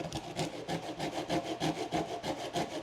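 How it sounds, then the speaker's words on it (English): Wood carved down and scraped against a cheese grater to make tinder for a soup-can rocket stove, giving a steady run of rhythmic rasping strokes, close and moderately loud, with no talk. "carving that down in that one area and just running it against my cheese grater"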